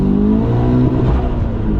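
A heavily modified Toyota GT86 fitted with an HKS turbo kit revs hard, its engine roaring loud and close in one sustained blast.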